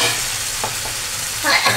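Grated coconut tipped into a hot pan of potato and pointed-gourd curry gives a steady sizzle with soft stirring scrapes, swelling into a brighter, louder hiss for the final moment.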